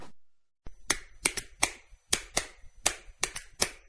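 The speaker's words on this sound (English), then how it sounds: "What's the universal language of a fan? Clapping your hands." Hands clapping in a Fan Hands advert, a dozen sharp close claps in an irregular quick rhythm after a brief silence.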